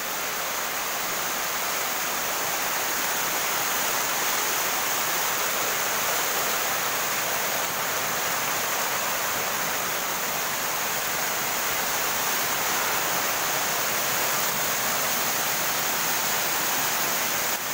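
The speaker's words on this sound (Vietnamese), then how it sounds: "Nước chảy với tốc độ rất là cao nhé các bạn nhé." A wild mountain waterfall dropping from several hundred metres roars steadily and fast, a loud close broadband rush of water that fills the whole stretch without a break.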